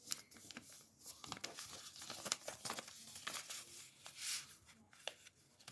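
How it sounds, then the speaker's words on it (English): Paper being folded into the wings of an origami flapping bird, quiet crinkles and crisp creasing rustles in irregular short bursts, close and faint. "For the wings, fold to make it shape like a wing."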